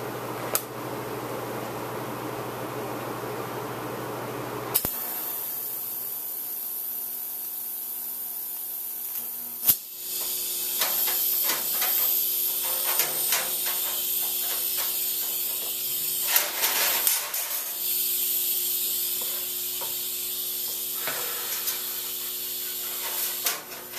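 A TIG torch welds a custom tool, giving a steady electric hiss and buzz with a constant hum underneath, broken by a few small crackles and pops, close and unaccompanied by speech.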